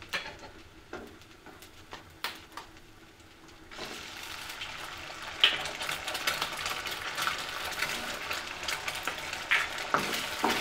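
Onions and two cracked eggs fry in a pan for a bhujia, starting as a quiet sizzle with a few taps, then swelling into a louder, steady crackling hiss with scraping stirs, close up.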